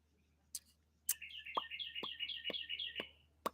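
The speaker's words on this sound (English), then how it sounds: "You guys hear them birds?" Birds call outside a beach house: a fast, rhythmic run of bright, repeated chirps forms one steady phrase, punctuated by a few sharp clicks, fairly close and with no voices.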